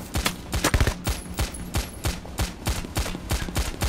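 Rapid automatic gunfire rattles in bursts in the heist shooter PayDay: The Heist, sharp close shots repeating in a steady staccato rhythm for several seconds without pause.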